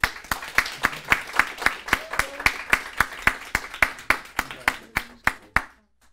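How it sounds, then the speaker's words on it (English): Graduation audience at a ceremony giving slow, evenly spaced claps, about twenty distinct loud hand claps in steady rhythm that stop abruptly after six seconds. "You can almost hear the clapping at home."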